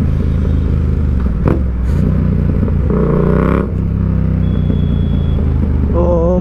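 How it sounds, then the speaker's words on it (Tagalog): Yamaha MT-07 motorcycle engine pulling steadily under load, a loud, continuous close-up drone whose pitch climbs midway through as the rider accelerates, with wind and road rumble underneath. "Sarap piga-pigain ni MT-07 yung torque niya."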